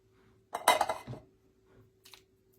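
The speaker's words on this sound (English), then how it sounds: "I like to use just a metal spoon to do this." A metal spoon scrapes and clinks against a dish while spreading a layered Mexican bean dip, one dense burst of scraping followed by a softer scrape and a light clink, close and quiet.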